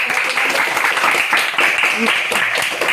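A seventh-grade classroom breaks into loud, dense applause from many hands, sustained for a few seconds with voices mixed in.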